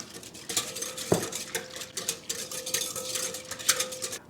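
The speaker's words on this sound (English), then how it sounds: "I'm going to give this a quick whisk." A whisk stirs a yeast mixture with granulated sugar in a bowl, giving a steady run of light scraping, clinking strokes up close with one sharper knock partway through.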